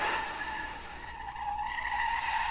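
A bus in a Roblox game skids hard to a stop as a wild animal jumps in front of it, a sustained squealing tire screech lasting a couple of seconds with a slight waver, heard alone.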